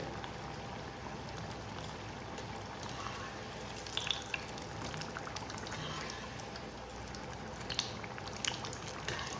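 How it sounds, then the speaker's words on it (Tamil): Plantain bajji fritters cooking in hot oil, a steady dense sizzle and bubbling that runs unbroken and fairly close throughout, with no voices. "வாழைக்காய் பச்சி வெந்துட்டுருக்கு."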